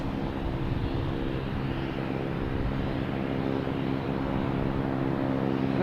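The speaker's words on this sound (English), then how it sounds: "Emirates got the gear down, ready to come in." Emirates airliner with landing gear down on approach to Boston Logan, a steady, loud broadband jet roar with low engine hum held throughout, no voices.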